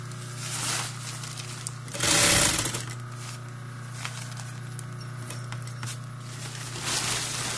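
A sewing machine runs long, rough seams on a bike cover, giving a low, steady mechanical hum with one brief louder burst early on and no talking.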